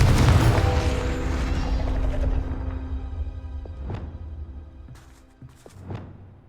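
Confringo fire spell exploding in Hogwarts Legacy on Xbox Series S: one loud, deep booming blast that rolls away over a couple of seconds, then a few softer whooshing and thudding game effects.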